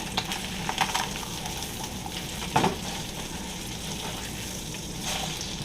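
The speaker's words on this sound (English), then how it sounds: "sear in the juices" Pork tenderloin searing in a hot pan gives a steady, close sizzle and crackle with occasional stirring and scraping sounds, and no voices.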